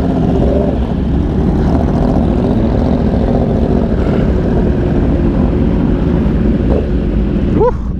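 A Yamaha R1 motorcycle engine roars loudly and steadily on a night ride in Miami, a thick continuous growl with wind rush, briefly swelling near the end.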